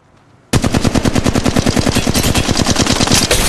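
Rapid automatic gunfire from the Apex Legends Mobile video game erupts after a brief quiet, a loud, close, sustained burst of evenly spaced shots running without pause.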